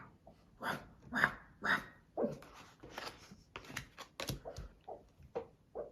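A sleeping dog letting out soft, muffled barks and whimpers in a string of short, irregular bursts, close but quiet in an otherwise still room.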